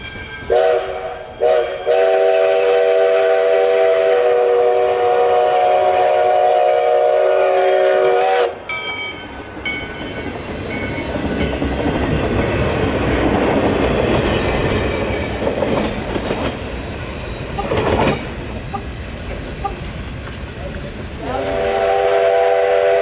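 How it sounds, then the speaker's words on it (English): A U.S. Sugar steam locomotive hauling the 2020 Christmas train makes the eastward turn out of Clewiston near the sugar refinery, with long loud whistle blasts and steady rumbling, clanking cars, close and powerful. "Train now making the eastward turn out of Clewiston"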